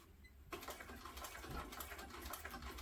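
A sewing machine runs a top stitch along a tote bag, starting after a brief quiet pause and then keeping up a steady, fairly quiet whirring, rapid stitching rhythm alone.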